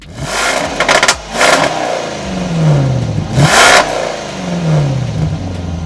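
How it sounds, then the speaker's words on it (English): A 2022 Land Rover Defender 90 with a 518-horsepower supercharged V8 and dual exhaust revs loudly and close by. Its throaty engine note climbs and falls through several rising and falling sweeps. "from the sounds of that throaty dual exhaust, we suspect that many of your adventures will be from traffic light to traffic light"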